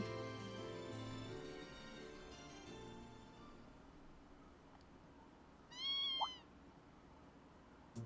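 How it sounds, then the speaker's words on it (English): A kitten in the Trails of Cold Steel 2 video game gives a single short, clear meow near the end, standing out over a quiet game music bed. "What's a kitten doing here?"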